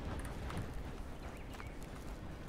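A horse's hooves clop in the video game Red Dead Redemption 2: soft, quick, irregular footfalls under a faint background wash, with no voices.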